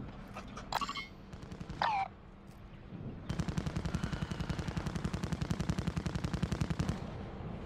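Call of Duty Warzone DMZ gunfire: a couple of sharp shots, then a long, steady burst of rapid automatic fire, rattling continuously for several seconds at moderate distance.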